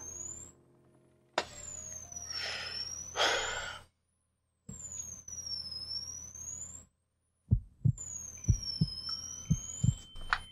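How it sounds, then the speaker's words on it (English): A heartbeat sound effect plays in a dark horror fan-fiction reading, with a few low, soft thumps near the end. They follow stretches of steady humming drone and rising and falling tones, with no voices. "Heartbeat."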